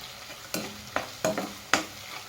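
Seasoned rice is stirred in a frying pan, with four sharp scrapes of the spoon against the pan over a soft, steady sizzle, close and moderately loud.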